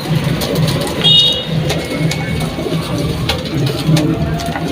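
Pigeons of several breeds coo repeatedly at an outdoor pigeon market in Dohar, Dhaka, their low, rhythmic calls steady over a busy background hum with a passing vehicle.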